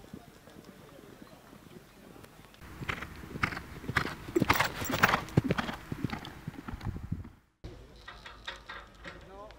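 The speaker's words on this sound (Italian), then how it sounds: "i cavalli stanno facendo tondino, Bircolotti in postazione." Horses' hooves clip-clop at a bareback horse race in Monticiano, a busy cluster of strikes building and peaking before a brief drop-out, with crowd noise and a commentator's voice running underneath.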